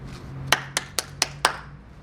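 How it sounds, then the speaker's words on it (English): Clapping for sponsors at a Kenyan cricketers' reunion in 2022: five sharp, evenly spaced claps, close and distinct, over a quiet background with no talk. "Please clap for them."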